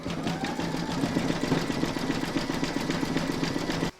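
An embroidery machine runs steadily for about four seconds, sewing a dense satin stitch around the borders of a runner panel, with a rapid, even mechanical whir close by before it cuts off sharply near the end.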